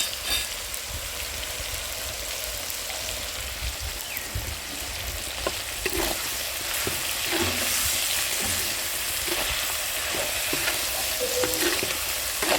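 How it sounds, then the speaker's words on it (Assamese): Duck meat fries in hot oil with ginger garlic paste, a dense continuous sizzle and crackle up close, with intermittent stirring scrapes and no talk. "ভালদৰে এতিয়া ফ্ৰাই কৰি লৈছোঁ এয়া মাংসখিনি"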